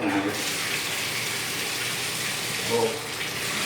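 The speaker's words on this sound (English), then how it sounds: "So I'll just throw the water on to show you just the basics." Water poured into a clogged bathtub drain, a steady broadband gush and splash running continuously throughout, with a brief louder surge near the end.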